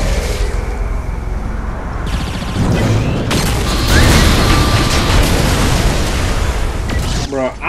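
Rocket blasts and booming explosions fill a Saints Row IV fight, thudding again and again through dense game noise and mechanical clatter, loud and close.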